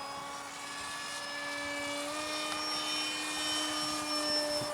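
An RC 1:26-scale Soviet Buran space shuttle propjet model flies at about 60% throttle, giving a steady, high-pitched electric-ducted whine with strong tonal harmonics, held at an even, fairly distant level throughout.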